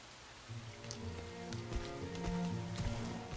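Heavy raindrops in the video game Rain, a steady patter of drops under a low rumbling game soundscape, with a few sharper splashes and moderate loudness throughout.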